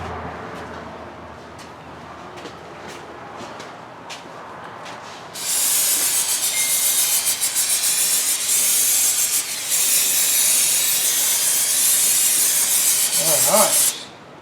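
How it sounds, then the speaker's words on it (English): Brake cleaner sprays onto vehicle brakes in loud, continuous aerosol hissing bursts close by, following a few quieter clicks and short hisses, then ending in a brief scrape. "I'm going to grab some brake clean real quick, hose that off, just get it all cleaned up."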